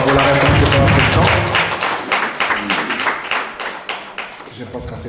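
An audience at a political gathering in Paris applauds the President's answer, with loud, close clapping that starts thick and thins into scattered, individual claps.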